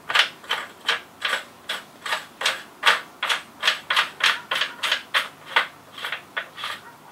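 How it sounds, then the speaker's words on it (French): A shotgun choke being screwed back into the barrel by hand, heard as a steady series of crisp metallic clicks and ratcheting ticks, evenly spaced, close and clear with no speech. "Donc, on remet le choc dedans."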